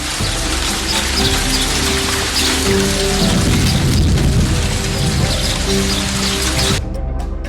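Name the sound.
rain starting, with thunder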